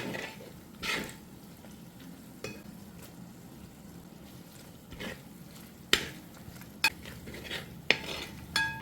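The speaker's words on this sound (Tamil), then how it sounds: "ஒரு கைப்பிடி அளவு புதினாவையும் சேர்த்து வதக்குங்க" Mint, coriander and green chillies being sautéed in a pan, with scattered clinks and scrapes of a stirring utensil against the metal over a faint, steady sizzle, close by and without speech.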